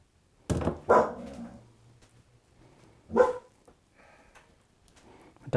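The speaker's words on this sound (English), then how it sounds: "Dogs are barking." Dogs bark in a few loud close bursts, two quick barks followed by a pause, then another bark, with a faint whimper between and a final bark starting at the end.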